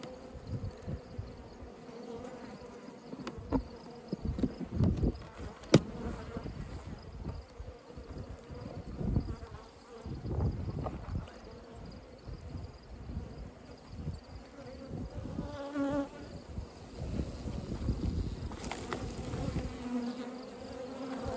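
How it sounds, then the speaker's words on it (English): Steady droning buzz of many honeybees close to the microphone at an opened hive in early morning, continuous throughout with occasional louder passes and light handling noises. "Early in the morning, the bees are very lethargic."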